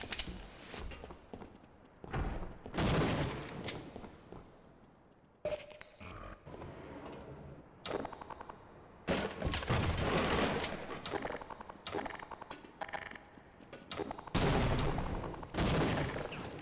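Weapon fire in the co-op video game Half-Life comes in heavy repeated bursts and booms, loud and close. Pauses break up the volleys, and voices are heard between them.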